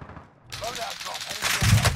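Gunfire in the battle-royale shooter Call of Duty Warzone: a quiet start gives way to rapid bursts of shots and clattering impacts, with a heavy thump near the end, mixed with game sound effects.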